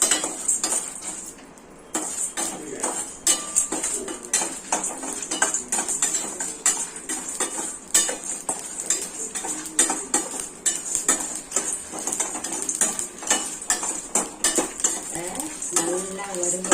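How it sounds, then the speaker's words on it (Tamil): Whole spices (cumin, fennel, cinnamon, cloves, cardamom and dried red chillies) dry-roasting in a pan for chicken gravy. A steady run of dry scraping, clinking and rattling of utensil against metal continues throughout with no talk. "இப்ப இது எல்லாத்தையும் வறுத்துடலாம்"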